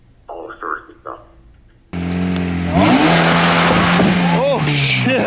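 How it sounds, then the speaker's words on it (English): A car does burnouts on a road corner, its engine revving hard while tires squeal in rising and falling whines, loud and close after a short stretch of talk. "he's doing like 350 at the corner of the road. Like burnouts"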